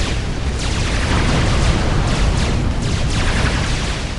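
Dense, continuous battle roar in Supreme Commander as a Cybran gunship attacks a mothership: steady rumbling booms and explosions with repeated bursts layered throughout, loud and unbroken.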